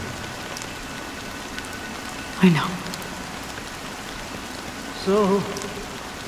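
Steady rain falls throughout a scene in the video game Honkai Star Rail, a continuous soft hiss of drops on surfaces, with brief spoken words cutting in twice over the downpour.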